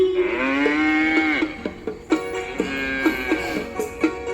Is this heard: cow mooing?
yes